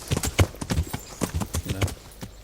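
Horse hooves clip-clopping in the medieval video game Kingdom Come Deliverance, a close, steady run of hoofbeats on hard ground.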